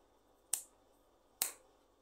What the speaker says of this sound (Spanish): como el chasquido de estos dedos